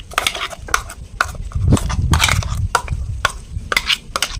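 A fine lentil paste, ground without water for a Bengali bori recipe, is scraped from the grinder into a bowl: a close run of irregular clinks, scrapes and soft thuds of a utensil against the vessels, with no talking.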